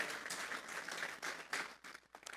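A church congregation claps together during a Spanish-language sermon, a fairly quiet burst of many hands that swells and fades in uneven waves before thinning out near the end.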